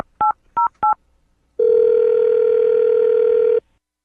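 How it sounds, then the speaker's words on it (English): A telephone gives three quick touch-tone beeps in short succession, then after a brief pause a loud, steady tone holds for about two seconds before cutting off cleanly. "I'm going to dial the phone number right now"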